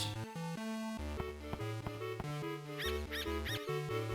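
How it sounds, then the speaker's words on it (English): A squeaky sound effect from Zelda: The Minish Cap chirps in short, bright, high-pitched yips over bouncy tonal game music, repeating several times in quick succession. "The squeaky sound effect. It sounded like that sounded like the dog from Undertale barking, almost the same pitch."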